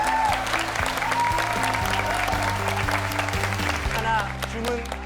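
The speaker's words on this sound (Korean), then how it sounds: "박수 쳐 주시는 게 너무 감사해요" Steady, dense applause from a lecture audience, many hands clapping close and continuous throughout with no speech over it.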